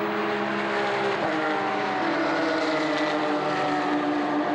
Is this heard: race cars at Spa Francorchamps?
yes